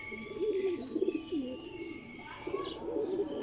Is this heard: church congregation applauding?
no